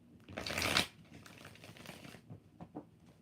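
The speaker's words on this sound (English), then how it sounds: "Two more shuffles." Tarot cards being shuffled by hand, a loud riffling burst followed by softer scattered card taps and slides, close and alone with no talking.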